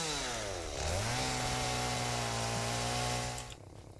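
A chainsaw in the video game Satisfactory revs up and cuts steadily with a loud, close, droning whine whose pitch climbs and then holds before cutting off, with no talk over it.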